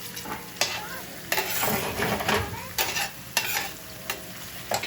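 A Scotch bonnet pepper cooks in a pot for ackee and saltfish, with loud sizzling broken by repeated spoon scrapes and knocks as it is stirred around.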